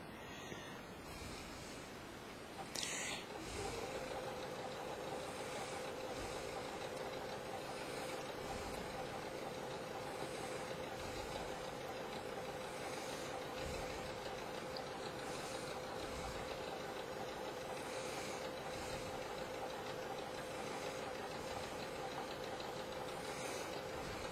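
A sewing machine runs a triple stitch along the side seams of a fleece hoodie jacket, giving a quiet, steady motor drone with faint repeating pulses after a brief handling noise at the start.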